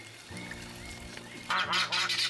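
Ducks call loudly from close by at a lakeside spot in Virginia, a burst of harsh honking quacks that follows a quieter stretch with music faintly underneath.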